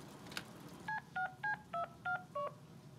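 Six evenly spaced touch-tone keypad beeps sound as a phone is dialed in the Deadpool video game, each tone short and clear over a faint background.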